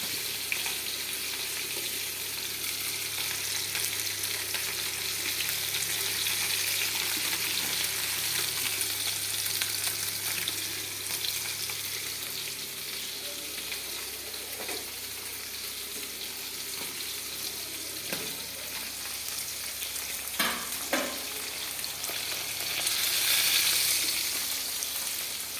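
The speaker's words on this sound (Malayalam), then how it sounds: "ഉള്ളിയെല്ലാം ഒന്ന് വഴന്ന് വരുന്നുണ്ട്." Onions sautéing in a pan for fish curry hiss in a continuous sizzle for the whole stretch, with a few stirring clinks late on and faint tap water in the background.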